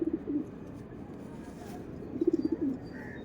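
A tournament Kaldum pigeon with clipped wings coos softly while held in the hand, with two short throaty bursts close by, one at the start and one near the end.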